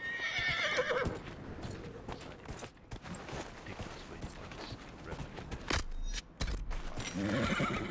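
Horse neighing and hoofbeats in the video game Dragon Age: Inquisition, set in the Hinterlands: a whinny up front, then steady clip-clopping hooves over a busy game soundscape with loud bursts near the end.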